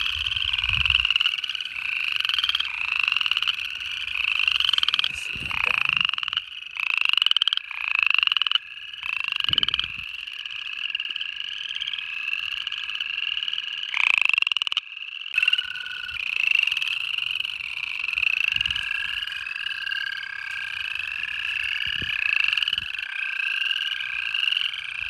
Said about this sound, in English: Upland chorus frogs.